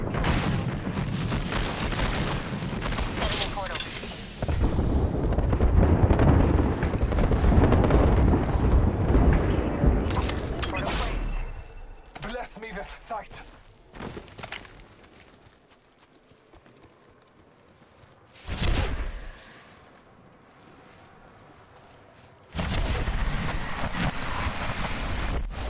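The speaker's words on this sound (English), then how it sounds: "we've got an airstrike coming in." Airstrike explosions rumble in Apex Legends as heavy, booming blasts roll over windy, noisy battlefield ambience, then drop away into quieter stretches broken by another sudden loud burst.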